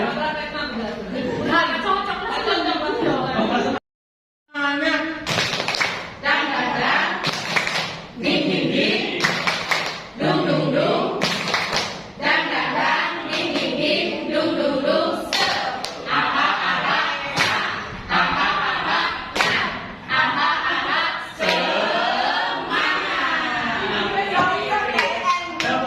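Schoolchildren beat out a rhythmic spirit clap together, sharp claps repeating in quick patterned bursts, mixed with lively voices and chatter throughout.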